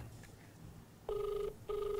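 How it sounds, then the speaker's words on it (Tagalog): Telephone rings in two electronic bursts, each about half a second, separated by a short pause, clear and fairly loud over a quiet background of a call-in radio broadcast in the Philippines. "Ayan, nagriring na tabi mga ka-action."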